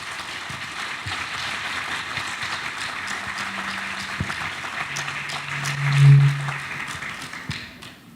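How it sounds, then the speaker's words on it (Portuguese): Audience applause welcoming two invited guests onstage at an environment and agribusiness panel event, a moderate steady patter of hands across the hall with a few louder thumps and a brief tonal hum partway through, no speech. "vamos receber com uma salva de palmas"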